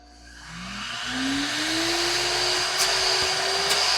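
A Grandstorm retractable vacuum cleaner motor starts up and spins up to a steady, loud whining roar, running continuously close by.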